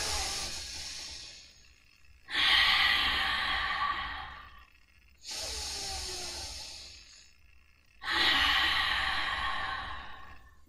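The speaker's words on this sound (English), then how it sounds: "Just taking a moment here to take a couple big breaths." Deep yoga breathing, close and clear: four long, airy breaths alternate between inhales and sighing exhales, each separated by a short silence, with no talking over them.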